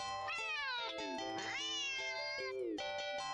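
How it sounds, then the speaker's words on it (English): A cat meows sharply several times in a row, clear and close, each cry rising then falling in pitch with brief gaps between them. "the cat meows sharply at you and dashes off around the corner into the hall"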